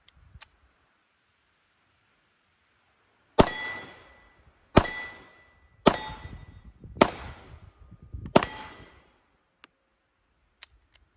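Nambu Type 14 pistol firing 8mm Nambu rounds, five sharp loud shots spaced about a second apart, each with a ringing metallic tail, followed by faint clinks.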